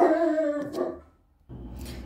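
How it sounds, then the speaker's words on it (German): A dog indoors lets out a short, drawn-out howl that trails into a whimper, close by, then falls quiet before faint background noise returns. "Wieder Eiko bellt, Entschuldigung"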